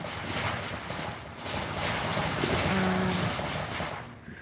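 A rumbling railroad tank car, likely a fuel car, rolls past with a steady low roar and a faint high whine, continuous throughout.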